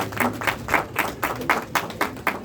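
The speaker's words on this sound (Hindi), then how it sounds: "तालियां" At a Lions Club award ceremony in Nainital, an audience applauds an honoree with a steady run of moderately loud claps. The clapping is fairly rhythmic and fills the room, and faint voices sit low beneath it.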